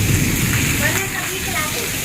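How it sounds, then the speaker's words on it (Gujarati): Heavy monsoon rain with thunder and strong wind, pouring steadily as a dense continuous wash close by, with people talking over it. "કેટલો બધો વરસાદ આવ્યો"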